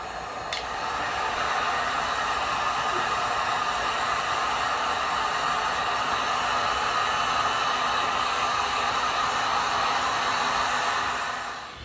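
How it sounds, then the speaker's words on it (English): A steady, loud hiss of hot air from a heat gun used on car paint protection film runs unbroken throughout, with a faint mechanical hum beneath and no talking. "We need more heat, so I'm going to use the heat gun."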